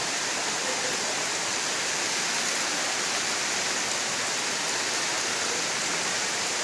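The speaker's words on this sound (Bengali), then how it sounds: "জোরে হলো গো বৃষ্টিটা" A constant, hissing wash of heavy rain fills the air in a Bengali village, even and unbroken with no voices.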